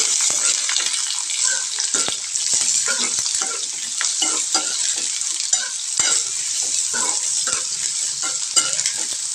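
Diced carrots sizzle and fry in hot oil as they are stirred, a steady crackling hiss with frequent scraping and clinking stirring strokes throughout, close and fairly loud with no talking.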